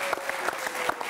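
Audience applauding at an evening event as a host is introduced: dense, steady clapping from many hands filling the short moment, with a few louder claps standing out.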